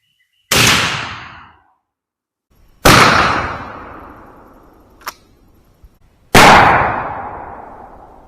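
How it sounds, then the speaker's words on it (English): Three loud, close 12-gauge shotgun blasts of Hornady Varmint Express No. 4 buckshot from 2.75-inch shells, each a sharp crack with a decaying outdoor echo, spaced a few seconds apart, plus a faint click between shots. "Shot number 1 with the Hornadays."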